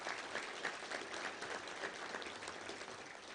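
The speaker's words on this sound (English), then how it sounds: "Let's give him a round of applause." Audience applause at a football touchdown club luncheon, a steady, moderately loud crowd clapping with no break throughout.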